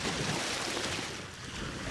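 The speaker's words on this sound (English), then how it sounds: "The serene sound of the water surrounds the Laguna Madre" Water of the Laguna Madre lapping and washing steadily beneath the high Queen Isabel Causeway, a continuous broadband wash with breezy rush, close and fairly loud, with no voices.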